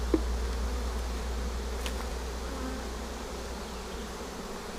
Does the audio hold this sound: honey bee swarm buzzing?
yes